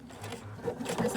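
A sewing machine runs briefly while sewing a hand towel for an oven door handle, a close, steady low hum of stitching lasting about a second.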